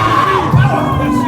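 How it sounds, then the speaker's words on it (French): Crowd at a church event cheering and shouting together in a short, steady burst of voices, loud and close throughout. "Et sous vos acclamations"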